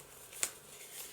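A single quick snip of scissors through lace during envelope embellishment for a journal, one short crisp cut close by in a quiet room.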